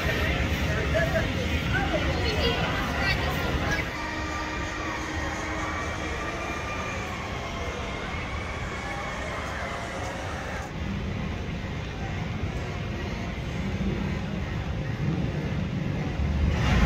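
Mindblower roller coaster, a Rocky Mountain Construction ride on new steel track at Fun Spot Kissimmee, rumbling by at a distance as a steady rolling roar under crowd and park noise.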